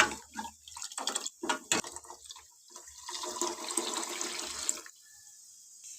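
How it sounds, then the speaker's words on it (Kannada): Water poured into a pot of tomato rasam while it is stirred together, a continuous close splashing and gurgling pour that runs for several seconds before easing off near the end, with no talk. "ಇದು ನಾನು ಇನ್ನೂ ನೀರು ಹಾಕ್ತೀನಿ ಇದಕ್ಕೆ ಮಿಕ್ಸ್ ಮಾಡ್ಕೊತಾ ಇದ್ದೀನಿ"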